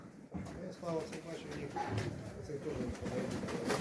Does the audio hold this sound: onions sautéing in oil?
no